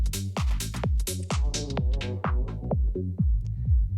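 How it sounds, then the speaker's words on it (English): Dance music played through a Pioneer DJ FLX4 controller as its low-pass filter is swept: steady beats and bass carry on while the bright upper detail gradually dulls and thins toward the end, loud and continuous with no talking. "it does what's called a low pass filter, which basically lets the low frequencies pass through and cuts out the high frequencies"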